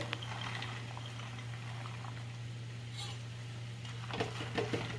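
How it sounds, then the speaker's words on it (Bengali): Taro leaves and chickpeas boiling in a pot for a prawn and taro-leaf dish, a steady low bubbling simmer throughout with a few small splashes near the end, no talking. "কচু শাকের সঙ্গে আমি ছোলাটাও সেদ্ধ করে নেবো, দিয়ে দেবো।"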